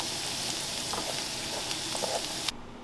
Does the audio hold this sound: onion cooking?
yes